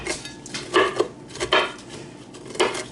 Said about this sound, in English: So we're going to get the pecans ready, and I just coarse chop these.